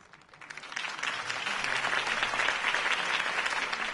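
Applause from a crowd after a campaign speech in a Batman video game rises quickly from a few claps into a full, sustained round of clapping, close and even, with no talk over it.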